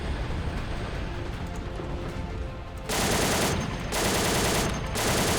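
Heavy 12.7 mm machine gun fire in the war game Call to Arms, set in the 1990 Iraqi invasion of Kuwait: loud sustained bursts in two stretches after a rumbling battlefield backdrop, with a brief gap between.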